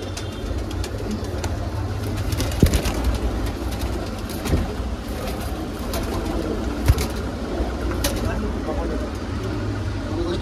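Punjabi pigeons coo low and steady among a flock, with a constant hum of traffic or a passing train behind them and a few sharp knocks breaking through.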